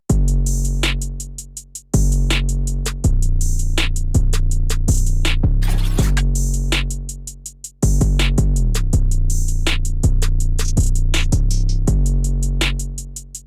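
A full hip-hop beat's drum pattern, punchy kicks and snares with rapid hi-hats, loops loud and steady over a deep bass, with brief drop-outs and a fill partway through.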